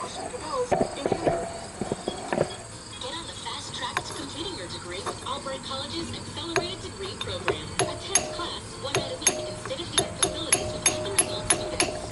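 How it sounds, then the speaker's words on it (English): A punch is driven with hammer blows to seat a pin in a shift selector during a gear extender install on a Dodge Neon SRT4 transmission, with sharp metallic strikes, clustered early and then spaced regularly later, under some background talk. "Alright, we got this pin drove in."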